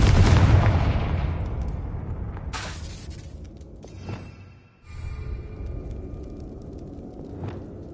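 The Confringo blasting spell in Hogwarts Legacy goes off as a loud booming explosion that rumbles and decays, followed by a few fainter crackling blasts and impacts over a game soundscape.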